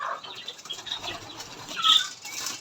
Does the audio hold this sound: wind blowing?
no